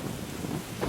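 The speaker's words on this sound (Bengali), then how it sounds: "উহ, কি বাজ পড়া শব্দ!" Cartoon thunder clap as rain sets in over a village, a low rumbling roar spanning the whole second and swelling louder toward the end, with no voices.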